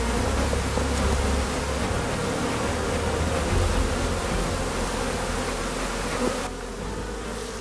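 Dense, loud swarm of honey bees buzzing continuously during a hive removal in rural Jamaica, the drone filling the air close by and easing slightly toward the end.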